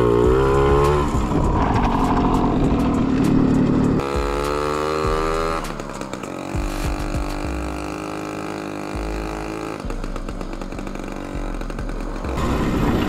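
Jawa Pionier 555 and Babetta 210 mopeds ride across a wet, muddy meadow, their small two-stroke engines buzzing and revving close by, the pitch climbing and dropping as the throttle changes, with no talking.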